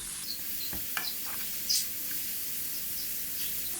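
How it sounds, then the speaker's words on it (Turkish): Zucchini spaghetti, lightly salted, stirred in a frying pan: a steady bright sizzle throughout, with a few soft scraping and clacking stir strokes, close, no talking. "Karıştıralım."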